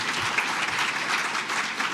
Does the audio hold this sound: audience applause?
yes